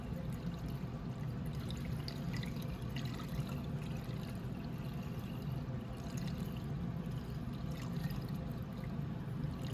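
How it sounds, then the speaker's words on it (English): Coolant being poured slowly through a funnel into the radiator of a Venom x22GT 250cc automatic motorcycle, a steady soft liquid pour and trickle running continuously at close range without speech. "We can go ahead and pour some in."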